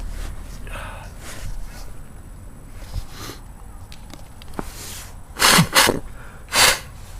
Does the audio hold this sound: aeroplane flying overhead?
no